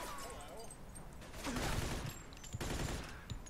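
Gunfire in the Mafia II video game, a dense, rapid run of shots sustained under a busy, noisy game mix.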